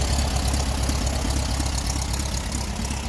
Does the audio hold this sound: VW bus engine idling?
yes